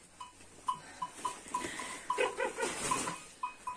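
Lambs and sheep bleat on a small farm. Faint repeated bleats come at an irregular rhythm from a short distance, with some scattered quieter animal calls and no speech.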